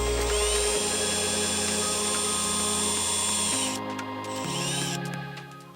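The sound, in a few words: power drill drilling car trim panel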